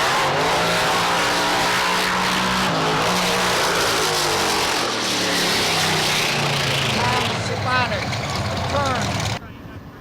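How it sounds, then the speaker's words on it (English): A 1968 Camaro with an 864 Chevy engine and a 3-speed drag racing, loud continuous engine roar with rising and falling revs over ten seconds, a commentator talking throughout. "He's got an 864 Chevy engine in his 1968 Camaro."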